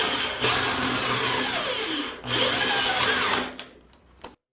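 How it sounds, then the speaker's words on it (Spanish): A drill bit bores slowly into wood with a loud, close grinding whir, pulled back briefly twice before a final short burst and silence. "Esto se debe de hacer despacio para evitar que la misma broca pueda llegar a dañar el trabajo."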